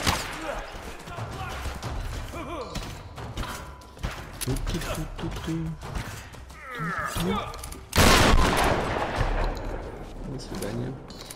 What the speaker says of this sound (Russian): Откуда он стреляет?